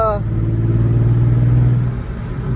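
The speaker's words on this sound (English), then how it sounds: "I'm also noticing that the intake isn't as loud as the short ram intake" An Infiniti G35 engine breathing through a long aftermarket intake, with a steady mid-pitched drone that rises and holds, then eases off, and a voice talking over it.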